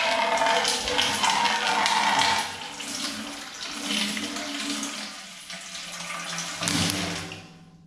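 Water gushes steadily into a freshly welded oil tank for a G35 rear-mount turbo build, a loud continuous splashing rush that dips and swells before cutting off at the end.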